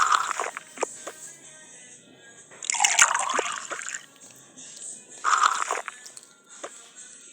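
Tea poured into small cups in a domestic setting comes through as several separate splashing pours, close and moderately loud, with light clinks and faint talk between them.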